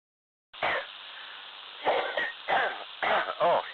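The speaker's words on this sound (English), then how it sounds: "just caught me having a cough" A person coughs a few times in short, close bursts, heard over a narrow-band ham radio transmission after a moment of silence.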